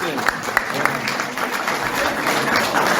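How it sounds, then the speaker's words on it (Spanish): An audience applauds continuously at a Spanish-language church talk, the clapping steady and fairly close for about three seconds, with a faint murmur of voices underneath. "un aplauso para Padre"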